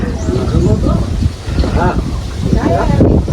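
Steady wind buffets the microphone in a low roar while someone talks continuously over it, outdoors on a farm by a river.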